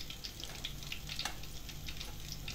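Palembang fish meatball skewers (sate pentol ikan) crackle in hot frying oil, a steady close sizzle dotted with sharp little pops, with no voices.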